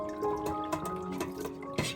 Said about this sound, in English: I just pour all the ingredients into the pot,